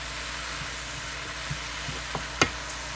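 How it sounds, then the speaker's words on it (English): Cabbage stir-fries on high heat, a soft steady sizzle with a few light stirring clicks and taps of a utensil against the pan. "let the cabbage fry and not boil or broil or stew"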